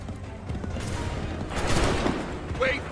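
A volley of musket fire from a line of soldiers on an Assassin's Creed III battlefield, a loud crackling fusillade of overlapping shots that swells midway, amid shouting voices.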